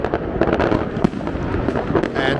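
New Year fireworks bursting to welcome 2026, a dense, continuous crackle of many overlapping explosions with sharper nearby bangs standing out against a constant roar of distant blasts.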